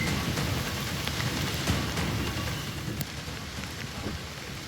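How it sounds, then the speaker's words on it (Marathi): Pre-monsoon rain in Ratnagiri, Konkan, falls steadily, a dense even hiss and patter close by that keeps going throughout, with no voices. "पाऊस सध्या पडतोय, मान्सूनपूर्व सरी खरं तर बरसतायत"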